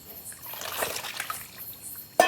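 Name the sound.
pouring out salt water used to wash fish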